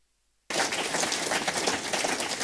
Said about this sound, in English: So I'd like you to join me in giving the panel a massive round of applause.